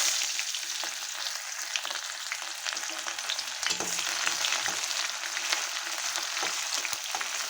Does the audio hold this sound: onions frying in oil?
yes